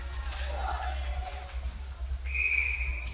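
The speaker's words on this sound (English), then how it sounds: "And we're going to have a whistle here at the corner." A referee's whistle sounds at an ice hockey game, a single sustained shrill blast late on, heard over arena murmur and a commentator's talk.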